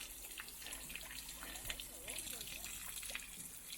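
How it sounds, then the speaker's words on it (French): A small waterfall spilling over rocks at the edge of the Ardèche gorges, a continuous rushing, splashing flow heard fairly faintly beside a trail, with a voice speaking over it. "On entend un petit peu l'eau, cascade"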